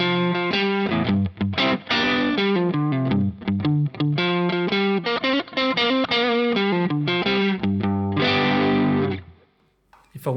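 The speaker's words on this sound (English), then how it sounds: "Let's try some overdrive for some bluesy tones." An electric guitar played through overdrive on a Nux Cerberus multi-effects pedal with spring reverb plays a bluesy phrase of quick, articulated notes and sustained bends, ending in a ringing chord that decays into near silence.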